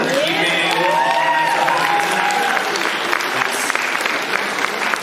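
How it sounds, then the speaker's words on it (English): A concert audience at a university faculty concert in the Mainzer hall gives a loud, sustained round of applause, a dense wash of clapping that holds steady for several seconds with some cheering mixed in. "can we just get a quick round of applause for the amazing staff here at the Mainzer"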